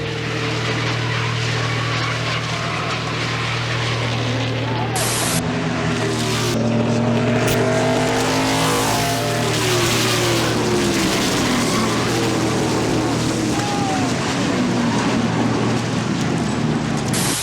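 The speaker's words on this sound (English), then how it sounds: "Now trucks crashing along the outside wall." NASCAR race cars and trucks crash on a track amid a loud, dense roar of engines with rising and falling tones. The noise stays constant and heavy for the whole stretch, and no separate impacts stand out.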